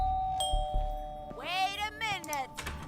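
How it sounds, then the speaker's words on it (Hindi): Two-tone electronic doorbell chime in a family home, a few clear ding-dong tones ringing out with close, faint indoor ambience and a brief voice afterward. "घंटी बजाते हैं"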